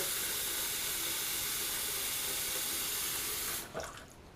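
A sink tap runs warm water before a straight-razor shave, a steady close hissing gush that stops near the end, followed by a few drips and splashes.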